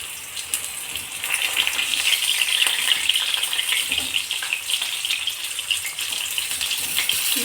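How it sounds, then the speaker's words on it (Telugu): Fish fries in a pan with a bright, broad sizzling hiss that swells and holds steady at close range, like running water, with no voices. "ఇవి కొంచెం గట్టిగా అయ్యేంత వరకు ఫ్రై చేసుకోండి, సరిపోతుంది."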